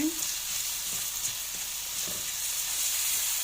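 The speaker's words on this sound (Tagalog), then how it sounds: "So, igisa natin siya guys sa ating white onion." White onion sautéing in a pan, a steady close sizzle and frying hiss with light stirring scrapes and no talking.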